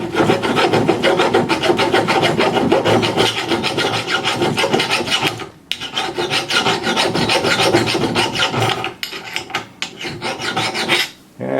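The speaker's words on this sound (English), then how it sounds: "Use a pretty aggressive file there" An aggressive file rasps steadily against the end of a .22 Remington Jet cartridge case held in a trim die, loud and close, with only two brief breaks in the continuous scraping.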